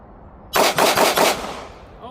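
A quick string of four or five loud pistol shots from a SIG Sauer P365 Fuse firing 115 grain rounds, closely spaced, with a ringing decay after the last shot.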